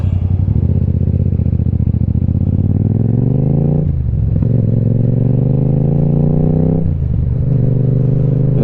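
A motorcycle with the baffle removed from its exhaust roars very loud and close, engine note climbing through the gears with two brief dips at shifts, raw and blaring throughout.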